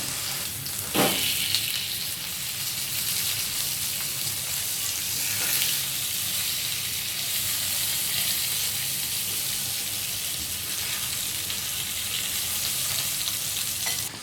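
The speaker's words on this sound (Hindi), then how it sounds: "दूसरी साइड पर भी हमें इसे 4 से 5 मिनट हाई फ्लेम पर पका लेना है।" Tandoori chicken sizzles steadily in a pan over high flame, a dense continuous frying hiss with a brief clatter near the start and faint stirring, no voices over it.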